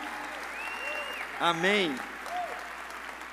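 Inside a church, a congregation applauds faintly in the background while a voice speaks over it during the service.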